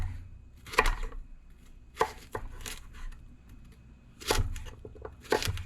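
Cucumber sliced with a knife on a cutting board, giving sharp, separate chopping taps in irregular clusters, close and fairly quiet, with no talking.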